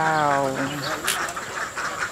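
Alabio ducks quack loudly and repeatedly in a duck pen, a burst of overlapping nasal calls up close over a steady background noise.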